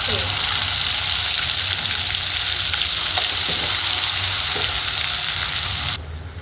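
Mustard seeds and spice paste fry in hot oil as a steady, loud sizzle with faint crackles and pops. The sizzle continues unbroken and drops off sharply near the end.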